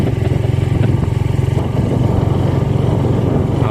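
A motorcycle on a bypass road in Pangasinan runs loud and close with a steady, rapidly pulsing engine throb, faintly rising near the end, heard alone without talk.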